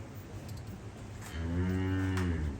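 A cow moos once, a long loud low call that starts midway and holds steady, after a stretch of quiet background rumble.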